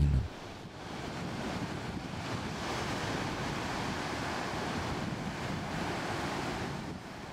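Indian Ocean waves off Madagascar roll and wash continuously, with wind rushing across the microphone; no voices.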